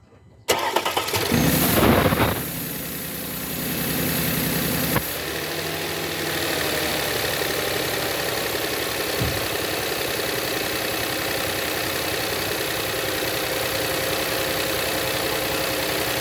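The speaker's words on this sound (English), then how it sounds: "I'm going to start the car and allow the car to warm up." An Audi 3.0T supercharged V6 cranks briefly, catches with a loud roar, then settles into a steady, even idle that continues for over ten seconds, close and without talk.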